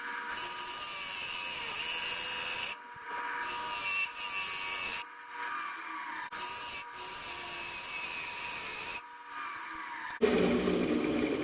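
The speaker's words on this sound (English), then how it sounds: "let's see if we can't take care of that with the sandpaper" Sandpaper rubbing on a turned canarywood vase, a steady close scratchy abrasion running in strokes of a few seconds with short pauses between them, then a brief louder, rougher burst at the end.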